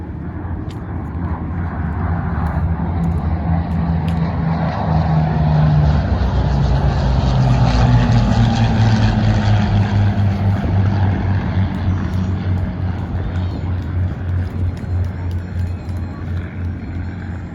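World War II propeller airplanes flying past at the Central Coast Airshow at Santa Maria Airport, a loud droning engine roar that builds and slowly fades across the sky, with an announcer's voice over it.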